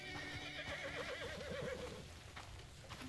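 A horse in the video game Crimson Desert lets out a loud, wavering whinny that rises and falls for about a second, with faint hoof clip-clops and game ambience around it.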